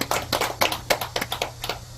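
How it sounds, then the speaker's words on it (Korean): Temple congregation at a Buddhist dharma service clapping for a visiting guest. About ten distinct, slightly uneven claps ring out close and crisp over a low steady hum. "우리 고리와 보살님한테 박수 한번 쳐주십시오."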